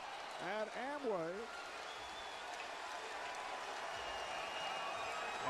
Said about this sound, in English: Standing ovation from this crowd here at Amway